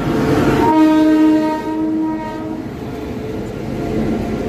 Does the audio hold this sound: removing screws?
no